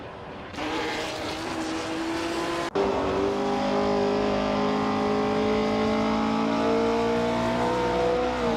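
The 1969 Nissan R382 race car in a racing game drones at high revs, steady and loud, with a sharp shift partway through and then a sustained climbing engine note.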